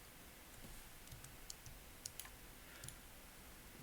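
Several computer keyboard key presses, sharp faint clicks scattered irregularly over a quiet background, with no voices.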